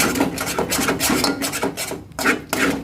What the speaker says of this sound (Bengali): তো এই নাড়তে থাকতেই হবে নাড়ছি তাও একটু তলায় ধরা ধরা হয়ে গেছে